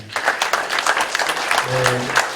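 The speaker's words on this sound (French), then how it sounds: "Je pense que vous pouvez l'applaudir" Audience applause at a town flowering and sports awards ceremony in Crouy, a steady patter of many hands with a voice speaking over it and a low hum near the end.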